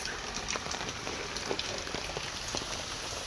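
Steady heavy rain pouring down, a dense hiss of drops drumming on a surface with scattered louder splashes, close by and continuous.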